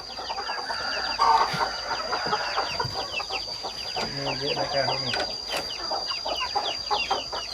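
Pa Koi chickens in a coop cluck busily, with a rooster crowing among the flock, while someone talks over the steady farmyard din.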